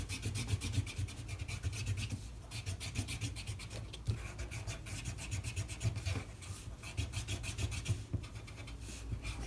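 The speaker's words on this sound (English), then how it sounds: "I'm going to take my eraser, and I'm just going to erase my lines" An eraser rubs out pencil lines on a protest poster, making a continuous close, scratchy rubbing with quick back-and-forth strokes that pause briefly now and then. No one speaks.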